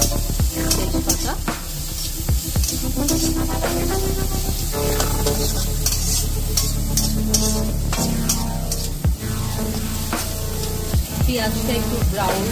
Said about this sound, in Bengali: পেঁয়াজটা একটু ব্রাউন হওয়া অবধি এটাতে ভাজতে হবে।